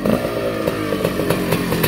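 Kawasaki KX250 two-stroke motocross motorcycle engine, a loud close buzzy idle with rapid rhythmic pulsing and small throttle blips, no talking.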